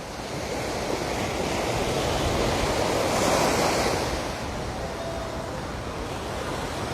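Ocean waves at Waikiki Beach, Hawaii, during a tsunami warning: a continuous broad roar of surf that swells gently in the middle and then settles, mixed with wind rushing across the microphone, with no voices.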